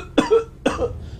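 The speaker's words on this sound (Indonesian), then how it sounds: "saya terdengar bunyi orang batuk, tapi datang daripada bilik sebelah" A person coughs twice in the next room, two short, fairly loud barks about half a second apart with nothing else around them.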